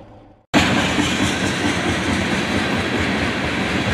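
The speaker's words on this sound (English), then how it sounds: "not only did we hit the train, but the train literally just started crossing here" After half a second of quiet, a passing train at a rail crossing bursts in loud and close, its wheels rumbling and clacking steadily over the track until the end.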